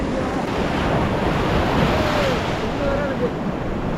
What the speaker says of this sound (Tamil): அலை அடிக்கும்